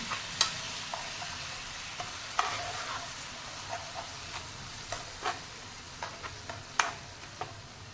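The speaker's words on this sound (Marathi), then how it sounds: "आता या मसाल्याला तेल सुटेपर्यंत परतायचं आहे" Green chillies in a yogurt-based curd masala are sautéed in oil, with repeated scraping stirs of a spoon in the pan over a soft, steady sizzle, close by.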